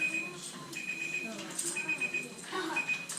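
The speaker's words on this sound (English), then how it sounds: "Be quiet, timer." A classroom timer alarm beeps in repeated short high-pitched bursts, moderately loud, while a teacher and children talk over it in the room.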